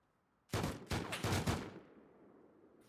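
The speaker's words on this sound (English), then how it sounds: "barrage of rockets flying in there" Rockets streaking in during a Rust EU 4v4 base-raid tournament, a dense cluster of several loud, close bursts packed into about a second, followed by a fading rumble.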